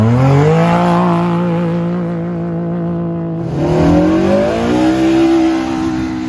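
A Polaris UTV launching in a desert qualifying run: a loud, close engine revs up in rising then falling sweeps, dips briefly, then climbs again as it pulls away.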